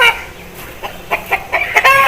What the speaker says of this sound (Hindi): एक ये मुर्गा है जावा कलर का, ये लाला शबीर के घर का मुर्गा है